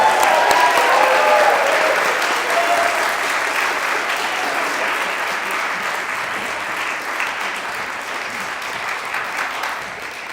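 An audience at a National Honor Society induction ceremony at Chapel Hill Chauncey Hall applauds the new inductees, with sustained dense clapping that stays strong throughout and fades slightly toward the end.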